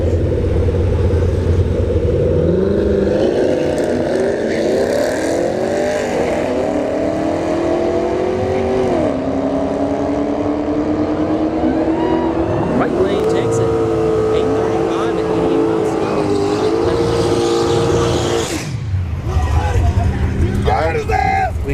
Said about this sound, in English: CL1 Camaro here in the right lane. And left lane, I think, is a Camaro SS.